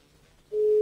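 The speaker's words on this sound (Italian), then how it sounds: "In attesa che Fabrizio Corona risponda al telefono." A telephone line tone sounds while a call is placed and waits for an answer, a steady single pitch that starts partway through after a quiet moment and holds to the end.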